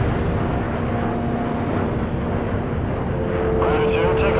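A fighter jet spooling up for takeoff in the combat flight game Ace Combat 6, a loud, sustained engine roar with a rising whine near the end, under radio voices talking.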